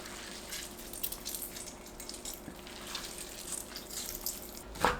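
Tofu is squeezed firmly to wring out its water, producing faint, close wet trickling and dripping with a soft squelch near the end, quiet and without speech.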